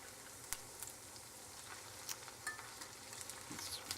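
Potato latkes fry in a pan with a steady, fairly faint sizzle and crackle, broken by a few sharper pops and light scrapes, with no one speaking.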